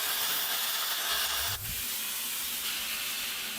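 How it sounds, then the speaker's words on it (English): A plasma cutter slicing through a steel tab and old leaf spring hangers on a second-gen Ram 1500 makes a continuous loud, close hiss, with a brief break and thump midway. "I'm going to plasma cut that off real quick, as well as plasma cut off my old leaf spring hangers"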